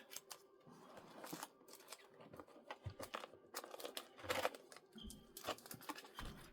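Deck of cards being shuffled by hand indoors, quiet irregular riffling and flicking bursts close by, with soft crinkly rustles between them.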